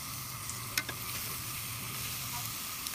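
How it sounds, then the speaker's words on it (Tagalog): Tuna belly sears in a grill pan with no oil, giving a soft, even sizzle at low volume with a few faint clicks of a utensil, close by and without speech. "Lulutuin lang natin yan sa kawali na pang ihawan para healthy talaga siya."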